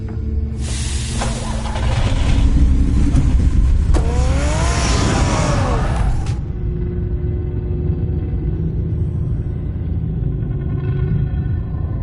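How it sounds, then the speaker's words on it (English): A car in the Batman Telltale game rumbles and accelerates away, a loud low engine roar with a rising rev and brief whooshing sweep, then settling into a fading drone. "Get the car ready, Alfred"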